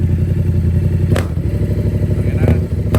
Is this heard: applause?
no